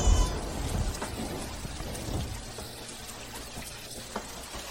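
Heavy rain falls at night as a drama sound effect: a dense, continuous hiss of drops on surfaces, with a deep rumble at the start that fades. No voices are heard.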